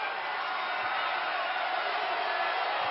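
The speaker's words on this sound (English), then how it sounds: "The crowd's back into it again." A basketball arena crowd cheers in a sustained, dense roar of many voices at an even, moderate level, with no distinct individual shouts.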